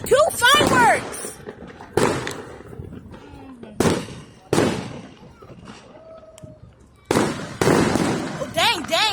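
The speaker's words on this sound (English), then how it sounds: "We got 2 fireworks." Fourth of July fireworks burst in several sharp, loud bangs spaced a second or two apart, some followed by whistling crackle, with people talking and exclaiming between the blasts.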